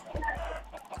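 Chickens cluck at a chicken farm in a survival multiplayer video game, two or three short, close clucks in quick succession with no talk over them.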